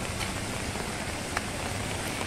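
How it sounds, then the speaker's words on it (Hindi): Steady rain falls continuously in Gujarat during a monsoon spell, a dense even hiss with occasional louder drops and no talking. "इधर भी बारिश"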